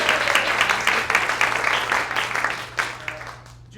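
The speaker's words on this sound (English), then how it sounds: "Clap for Julie" Comedy-club audience at a stand-up show claps for a woman named Julie, a steady patter of hand claps close by that thins out toward the end, with a low hum underneath.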